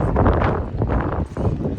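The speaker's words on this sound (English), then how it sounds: "it's dropped 30 degrees and is incredibly windy up here." Strong wind buffets the microphone in loud, continuous low rumbling gusts, briefly dipping before surging again.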